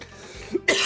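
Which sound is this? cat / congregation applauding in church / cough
cough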